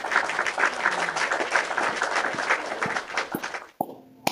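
A church congregation bursts into applause, a lively crowd of clapping hands that keeps up for over three seconds, then breaks off abruptly into a few scattered knocks and near silence.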